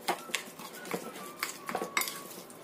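Metal utensil scraping and clinking against a pan in quick, irregular strokes as onion and garlic are stirred, close and fairly quiet.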